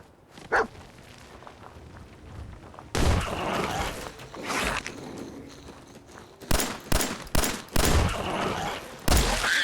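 Mole rats bursting up out of the ground in Fallout 4, heard as a string of sharp, loud, gunshot-like bursts and thuds that grow more frequent toward the end, with no talking.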